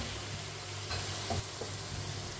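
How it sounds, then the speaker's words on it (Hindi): Potatoes and peas for aloo matar get stirred with a spoon in a hot pan, giving a soft, steady sizzle with a few faint scraping touches, close and quiet with no voices. "दोनों चीजों को 2-3 मिनट के लिए पका लेंगे, इसी तरह चम्मच चलाते हुए"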